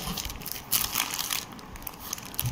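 Plastic wrap being peeled and crinkled off a new Titan Octane or Sonata SF chronograph watch, a continuous close rustling and crackling with a few sharper crinkles, no talking.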